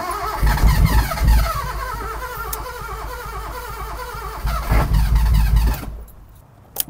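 A 1974 Honda Civic with a carburetor, parked for 14 years, cranks and catches, then runs roughly with uneven revs and bursts of throttle before the engine cuts out, loud and close with no talk.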